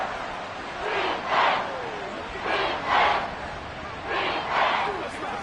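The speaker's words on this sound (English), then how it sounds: "This crowd doing all they can" A stadium crowd in the Madden 25 football game, Chargers against Chiefs, chants and roars in rhythmic swelling pulses, three paired surges over a steady crowd rumble.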